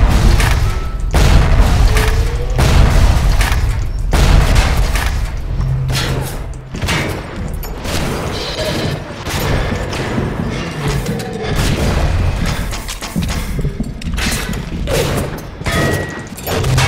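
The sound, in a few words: frag grenade explosion and gunfire in BioShock video game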